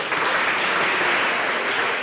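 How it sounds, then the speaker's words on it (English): An audience at a youth consultation meeting gives steady, loud applause, a continuous wash of many people clapping close by with no break, and no talk over it. "Please clap for the Mana River Youth Parliament"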